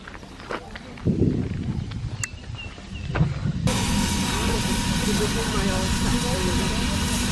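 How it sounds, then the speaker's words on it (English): Voices and scattered bumps give way to a loud, steady rushing hiss of steam from a nearby steam locomotive in Cuba, continuing without pause to the end. "We are going on a steam train ride."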